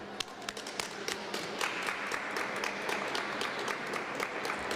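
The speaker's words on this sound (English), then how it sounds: "She deserves every bit of applause we can give her." Applause at a cap-and-invest policy event in Pennsylvania: a moderately distant audience claps steadily, sharp individual claps standing out from a continuous patter that stays even for several seconds.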